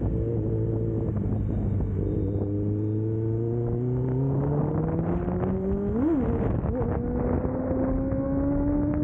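Kawasaki ZX10R sport motorcycle engine running close by, a low steady idle that gradually climbs in pitch, with a sharp rev blip midway before settling into a higher sustained drone.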